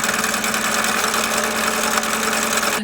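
A sewing machine runs steadily, stitching white and red fabric strips right sides together for a flag quilt block, a continuous close mechanical whir with no talking.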